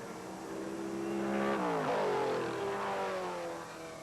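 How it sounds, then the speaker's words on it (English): Big 1980 SCCA GT-1 race cars swoop down a hill at speed, engines swelling loud as they pass close with a falling pitch, then fading away. "165 miles an hour as they swoop down this hill, that bit of hill giving these big cars a bit of impetus"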